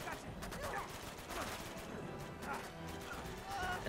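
Rapid, continuous gunfire from an Uncharted 2 firefight crackles quietly in the distance, a dense stream of shots with some voices in the game mix.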